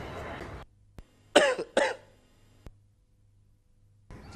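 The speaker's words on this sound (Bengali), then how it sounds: "ডেড বডি কাশি দিয়েছে নাকি?" One person gives two quick, close coughs in succession, set between stretches of talking at the start and end, with near-silence in between apart from small clicks.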